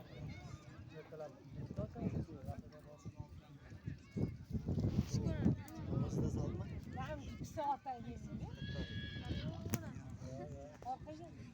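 Horses gather at a kopkari (uloq) mounted game in Zangiota, Tashkent region, with hoof clatter, snorts and occasional animal calls amid a crowd, and someone talking loudly throughout.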